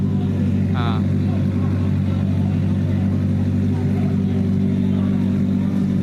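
Drift cars at Speedfest Malaysia, among them a 370Z, BRZ, E46, GT86 and 240SX, make a steady, loud engine drone with some revving that fills the whole stretch, close by and continuous. A brief whistling tone cuts in near the start.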